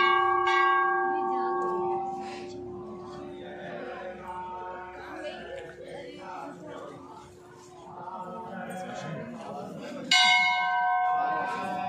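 Temple bells at Naina Devi Temple in Nainital ring out with long sustained tones, fading under background voices, then a fresh loud strike rings near the end.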